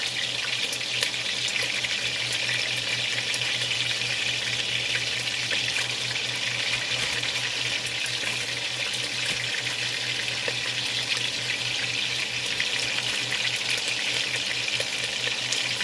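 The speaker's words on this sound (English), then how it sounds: "Make sure that grease gets hot so that it's ready" Bacon frying in hot grease gives a steady, even sizzle and crackle, continuous and close, with a low electrical hum beneath it.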